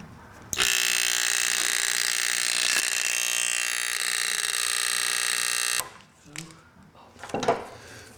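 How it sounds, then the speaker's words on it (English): A ticker timer buzzes loudly and continuously as it marks dots on carbon paper, a bright rattling drone lasting about five seconds before cutting off, followed by brief handling noises. "I'm going to go ahead and turn on the ticker timer right now"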